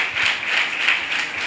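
Church congregation clapping in praise, a short burst of steady applause at moderate volume with a faintly pulsing rhythm and no other sound.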